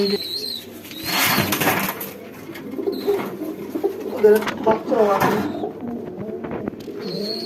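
Pigeons newly paired in a loft, a large-breed male with a small female, coo in low throaty bursts close by. Someone talks over and between the calls, with a few knocks and rustles around them.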